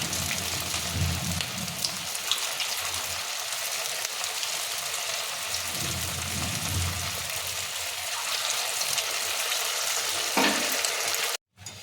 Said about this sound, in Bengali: এবারে আমি এগুলোকে তেলে ভেজে নেব